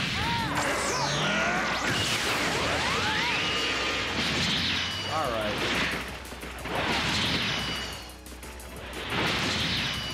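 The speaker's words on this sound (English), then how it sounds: "Special beam cannon!" Special Beam Cannon attack from the Dragon Ball Xenoverse 2 fighting game, with loud energy-beam whooshes, crashing impacts and swelling blasts in repeated bursts, dense game audio throughout.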